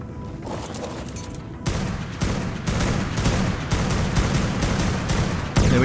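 Tek railgun firing in the ARK: Genesis video game during a PvP raid, a dense, loud run of rapid cracking shots and booming impacts that continues steadily with no pauses.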